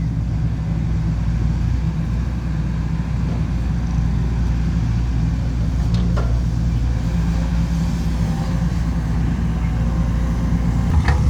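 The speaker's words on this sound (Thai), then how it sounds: "รถไถ วิ่งบ่อยมากเลยครับ" A tractor drives past with a steady, loud engine rumble droning on throughout, close by, with a few faint clicks over the low drone.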